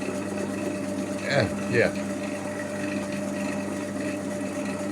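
A Parkside PTBM 550 A1 benchtop drill press runs with a steady motor hum and faint whine, close and even throughout, with two brief louder surges near the middle and someone speaking briefly over it.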